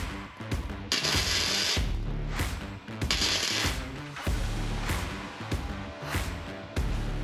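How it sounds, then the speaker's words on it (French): A Peugeot 205 roll bar being welded into a Peugeot 106: loud, close bursts of harsh crackling buzz starting and stopping in short runs, with brief gaps between welds. "On a tout boulonné et là je vais souder."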